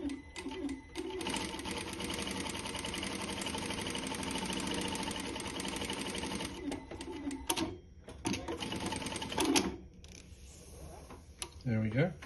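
A Prosew PS-D9 light-duty straight-stitch industrial sewing machine runs an automatic stitch cycle. It gives a steady close whir of stitching, then a brief end tack and thread-cut clicks. Someone talks over and after it.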